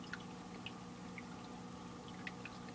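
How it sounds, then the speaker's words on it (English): Water in an aquarium sump trickles through activated carbon, making a faint, steady flow sprinkled with soft drips and splashes. "the water comes down here, you know, flows through some activated carbon"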